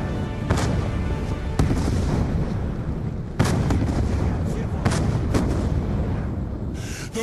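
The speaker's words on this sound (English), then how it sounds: "The mortars have stopped!" Mortar fire in the Call of Duty Black Ops II video game: a dense, continuous battle rumble punctuated by several sharp, loud blasts at irregular intervals, with no speech over it.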